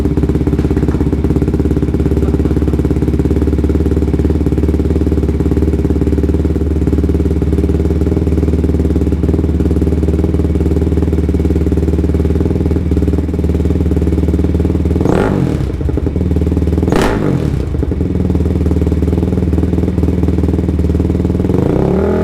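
A modified Honda TRX ATV engine with an aftermarket exhaust runs steadily and loudly up close, with a couple of sharp revs near the end.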